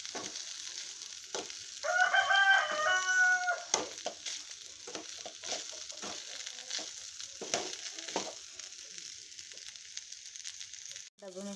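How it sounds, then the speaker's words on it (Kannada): Bell pepper pieces frying in oil in a home kitchen, a soft steady sizzle with scattered stirring clicks, joined briefly by a cat meowing near the start. "ಡಬ್ಬು ಮೆಣಸಿನ್ಕಾಯಿ ಎಲ್ಲ ಹೋಳಿ ಈ ಥರ ಎಣ್ಣೆ ಒಳಗೆ ಫ್ರೈ ಮಾಡ್ಕೊಳತ್ತೀನಿ ರೀ"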